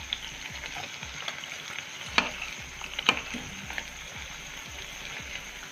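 Khari pastry fries in oil over a low gas flame, a quiet, steady crackling sizzle with soft bubbling and a couple of sharper pops.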